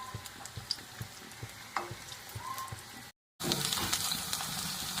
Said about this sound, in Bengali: ছোট ছোট আকারে ভেজে নিলাম।